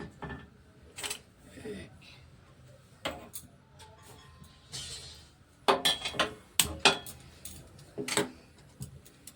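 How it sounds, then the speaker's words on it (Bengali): A kadai being set on a stove among kitchen clatter, with scattered metallic clinks and knocks, several sharper hits clustered toward the end, fairly close. "এবার এটাকে আমি কড়াটা বসিয়ে দিলাম"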